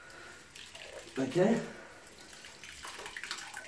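A sponge rinsed and squeezed out in a bucket of water while regrouting a shower, a brief wet slosh and trickle of water in the middle, with a person speaking briefly nearby.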